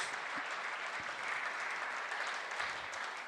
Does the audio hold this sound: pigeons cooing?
no